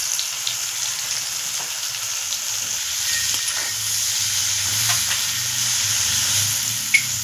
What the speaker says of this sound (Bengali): পেঁয়াজ ভাজার সময় একটু নুন দিয়ে দেবো।